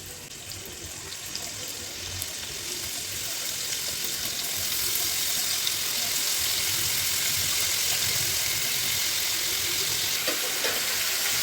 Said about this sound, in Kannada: ಇವಾಗ ಮ್ಯಾರಿನೇಟ್ ಮಾಡಿ ಇಟ್ಕೊಂಡಿರೋಂಥ ಪ್ರಾನ್ಸ್ನ ಒಂದೊಂದೇ ಹಾಕೊತೀನಿ.